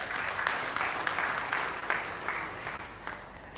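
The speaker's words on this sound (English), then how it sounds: "asking everyone to give yourselves a round of applause" An audience at an inauguration event applauds at a soft, distant level, with light, steady clapping that slowly fades toward the end.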